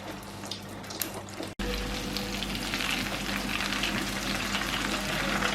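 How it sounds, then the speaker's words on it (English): Chips deep frying in hot oil give a dense, steady sizzle and crackle that starts abruptly after a quiet moment and continues close and loud without talk. "They'll take about 10 minutes to fry."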